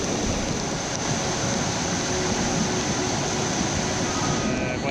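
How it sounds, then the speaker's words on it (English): Water pouring over the wall of a small homestead dam flooded by heavy rain, a steady, dense rushing roar holding constant and fairly loud from start to finish. "So the dam is inundated, it's overflowing over the wall."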